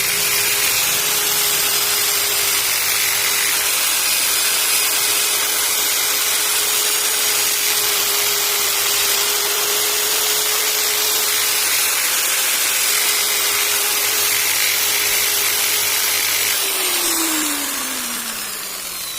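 A power drill fitted with sandpaper drones loudly and continuously with a gritty sanding rasp while smoothing an engine piston part, holding a steady pitch before spinning down at the end.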